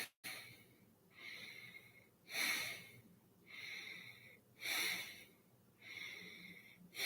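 Slow, deliberate breaths during a guided muscle relaxation exercise, about three long airy inhale-exhale cycles with quiet gaps between, close and alone.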